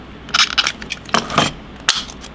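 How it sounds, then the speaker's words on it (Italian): A cutter trims the edges of a plastic bottle into a wavy line, giving a few crisp crackling snips and crunches in short bursts with brief pauses between them. "Quindi tagliamo i bordi anche con l'aiuto del tagliabalze, perché è più facile che non con le forbici"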